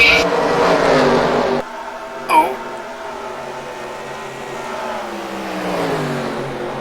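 Race cars in a NASCAR-style racing video game at Richmond drone steadily around the track, engine tones sliding and shifting as cars pass, under commentators talking throughout.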